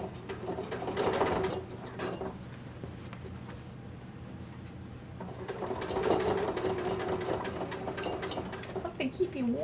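Sewing machine stitching a quilted vest, running in two bursts with a quiet gap between them, close and fairly steady, with light handling noise and no talk.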